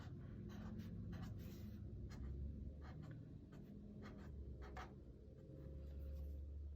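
Pencil scratching across paper while outlining a cartoon drawing, with continuous soft strokes and short repeated scribbles, close and quiet over a low background hum, no talking.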